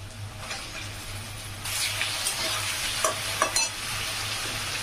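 Fresh live fish dropped into a hot pan, a steady sizzle that swells suddenly into a louder, fuller hiss and crackle, with a few sharp clinks and spits, close by and without voices.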